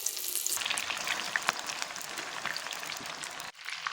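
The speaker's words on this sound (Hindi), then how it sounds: "इस ऑयल में हम कटहल को फ्राई" Jackfruit pieces frying in oil in a kadhai over a low flame, a dense close crackling sizzle that holds steady and then dips briefly near the end, with no one speaking.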